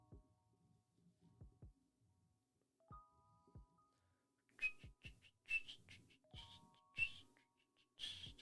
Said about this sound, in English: I shouldn't whistle, sorry. That's really annoying.